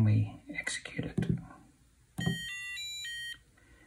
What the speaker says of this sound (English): generates the same beep as the traditional 41C beep.